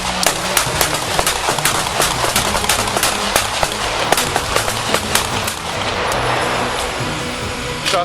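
Police officers and deputies fire their service weapons at a driver in a rapid volley of sharp cracking bangs over steady loud noise, the shots fading into a continuous roar near the end.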